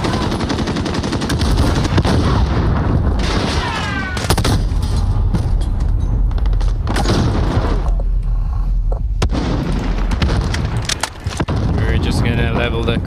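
Dense automatic gunfire and explosions fill a Call of Duty: Modern Warfare match without letup, with shouted in-game voice lines over the rattle of weapons.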